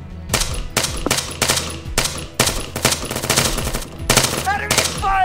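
Rapid bursts of automatic gunfire in the military shooter Arma 3, loud and close, coming in repeated volleys with brief gaps, followed near the end by a few sharper single shots.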